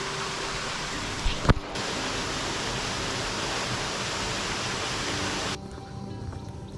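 A waterfall pours in a steady broadband rush close by on a sunny day, one short sharp knock briefly breaking through before the roar drops somewhat quieter near the end.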